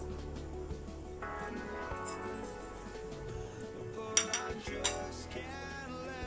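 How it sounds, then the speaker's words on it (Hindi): Spice masala and coriander powder being stirred into yogurt in a bowl for a spicy chicken drumstick marinade, with soft scraping and a few light clinks of a spoon against the bowl under a steady background hum. "तो ये सारा मसाला इस दही के अंदर मिक्स कर देंगे।"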